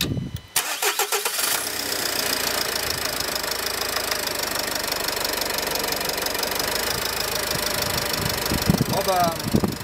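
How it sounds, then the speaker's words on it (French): A car engine cranks and catches after an air filter check, then settles into a steady running idle with a slightly rough, knocking mechanical texture throughout. "Je vais voir si ça démarre mieux que ce matin."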